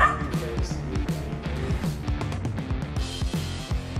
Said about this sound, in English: for some reason, the dog decided to bark at it